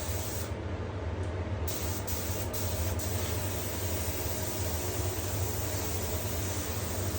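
Spray gun laying clear coat in flow-coat passes over a flatted motorcycle fuel tank, a steady close hiss of atomised paint with a low compressor-like hum underneath, continuous and unbroken.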